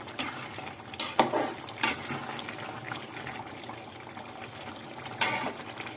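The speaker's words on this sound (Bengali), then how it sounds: "গোস্তটা এখন আমার পানি ছাড়ছে।" Beef simmers in a covered pot, letting out its juices, with a soft bubbling sizzle running underneath and several sharp clinks of a utensil or lid against the pot.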